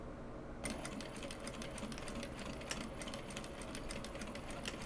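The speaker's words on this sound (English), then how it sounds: "I should actually start the bobbin winding here" A sewing machine winds a bobbin in a steady fast whir with rapid mechanical ticking, starting abruptly and running evenly at a soft, close level.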